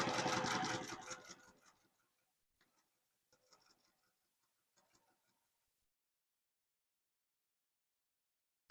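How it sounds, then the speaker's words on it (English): Sewing machine stitching cotton fabric to vinyl along a quarter-inch seam, a fast dense run of needle clatter for about two seconds, then a few short stuttering bursts before silence. "using a 1/4 inch seam allowance, I'm going to stitch right down that edge"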